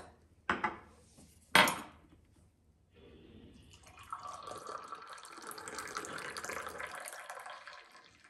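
Mint tea leaves in a teapot are rinsed with water: two sharp knocks come first, then a soft, steady splash of water running for several seconds.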